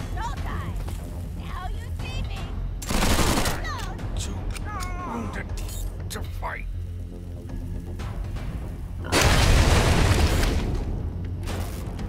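A deployed turret in Wasteland 3 fires two heavy, booming bursts, one short and one longer, with voices and game sounds continuing between and around them.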